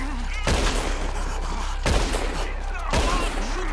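Gunfire in the Red Dead Redemption 2 video game, three loud close gunshot bursts spaced about a second apart, with faint voices between them.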